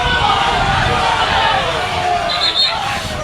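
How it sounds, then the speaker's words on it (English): At a men's Irish Senior Cup final, a large crowd gives a loud, sustained murmur of disapproval, a dense babble of many voices throughout. "Crowd don't like that one."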